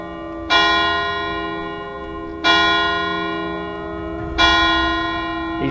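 Three loud, close church bell strikes about two seconds apart, each ringing with a bright metallic tone and a long, humming decay, with no voices.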